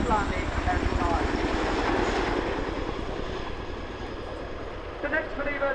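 An RAF Chinook HC.6 twin-rotor helicopter performs a flying display, its engine and rotor roar steady at a distance beneath a continuous commentator's voice over a public address system.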